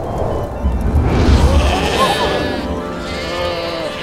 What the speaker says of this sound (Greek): κάποιοι βοσκοί φύλαγαν τα πρόβατά τους μέσα στη νύχτα